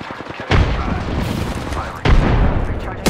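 Gunfire in the battle game Apex Legends, with two heavy booming shots or bursts over a dense, continuous roar of combat noise, loud and close.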